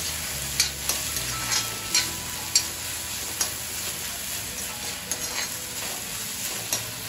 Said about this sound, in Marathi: एकदम मिक्स करून घ्यायचं.